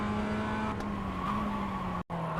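Mazda MX5 in iRacing at Circuit de Ledenon, engine note dropping under braking as it downshifts to first gear, with a brief cut in sound during a shift.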